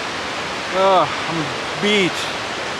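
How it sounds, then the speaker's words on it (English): Loud waterfall near Elk Lake in the Sawtooth mountains, a steady broadband rush of falling water holding constant in the background while someone speaks briefly over it. "You can see back there's a big old waterfall. You can probably hear it pretty loud."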